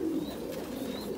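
Pigeons cooing in a breeding coop on a farm, low throaty rolling coos repeating steadily, close by, with faint chirps in the background.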